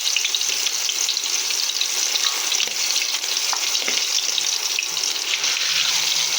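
Fish heads frying in hot oil in a wok, a steady dense crackle of sizzling with a few sharper pops, continuous and close with no talk.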